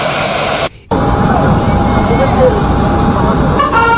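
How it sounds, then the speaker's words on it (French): Aircraft marked Republic of Mali landing and rolling along the runway, a loud steady engine roar close by with a brief cut early on and a rising whine near the end; a narrator speaks over it. "un avion estampillé République du Mali caresse la piste d'atterrissage"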